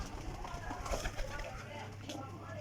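High-flyer pigeons coo softly in a low, murmuring stretch, faint and close, with some background noise around them.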